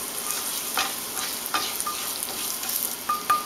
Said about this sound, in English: In another pan, put a little bit of olive oil. Add a few cloves.